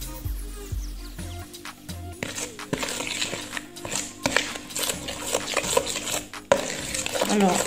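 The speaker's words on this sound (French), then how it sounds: "Et je mélange le tout." Sugar being stirred into lime jam in a pot, with close, irregular scraping and clinking strokes against the pot that grow busier and denser partway through.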